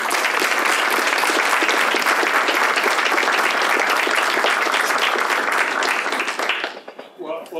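A conference audience gives sustained, loud applause with many hands clapping densely together, which holds steady and then tapers off near the end.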